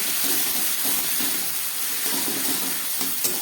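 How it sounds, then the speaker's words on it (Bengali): Onion, tomato and green chili frying in a pan, a steady, bright sizzle running evenly throughout with faint stirring clicks underneath. "পেঁয়াজ, টমেটো আর কাঁচা লঙ্কাটা ভাজা হয়ে গেছে"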